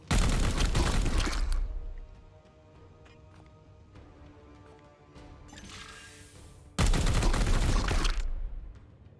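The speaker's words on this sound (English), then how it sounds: "I'm just going to shoot him twice" Gunshots in the tactical game Warhammer 40,000: Chaos Gate - Daemonhunters: a loud, dense burst of fire opens, then a quieter lull with ringing tones and a whoosh, then a second heavy volley.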